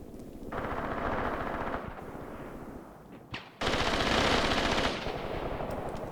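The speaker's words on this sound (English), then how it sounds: "I think that was the barrage" Sustained machine-gun fire and rifle shots crackle densely during a barrage in the war game Graviteam Tactics Mius Front, with a brief lull near the middle before a loud, continuous burst of gunfire resumes.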